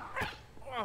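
A dog in Luigi's Mansion 3 gives a pair of short barks and yips during a revive sequence, heard close against a busy game soundtrack.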